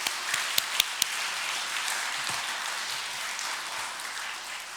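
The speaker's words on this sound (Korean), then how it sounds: "우리 하나님께 영광의 박수 올려드리겠습니다." A church congregation breaks into sustained applause at an Easter service, a few sharp claps standing out at first before settling into a steady, even wash of clapping.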